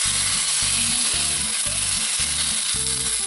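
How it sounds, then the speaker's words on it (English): Steaks sizzling in hot oil in a pan, a steady loud frying hiss with soft rhythmic scraping or stirring thumps underneath, close and without talk. "Listen for that lovely sizzle."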